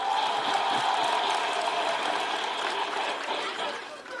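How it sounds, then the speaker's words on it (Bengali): A crowd claps loudly and continuously at a gathering, dense applause that fades slightly toward the end, with faint chatter mixed in. "ইমোশনসের জন্য বটে জোরে হাততালি"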